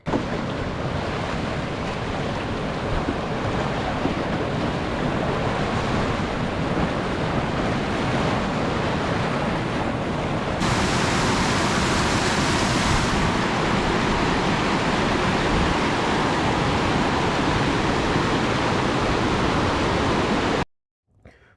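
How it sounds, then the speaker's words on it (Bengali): Water flowing down a hillside in Meghalaya, India rushes continuously in a loud, broad hiss, with steady wind-like roar and no voices, cutting off abruptly at the end. "পাহাড়ের গা ভেসে পড়ছে পানি"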